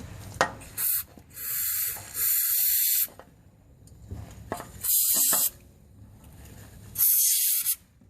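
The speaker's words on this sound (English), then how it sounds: "I'm just going to spray some white lithium grease" White lithium grease hisses from an aerosol can onto a torque arm and bushing in four separate bursts of varying length, each loud and close, with quiet pauses between.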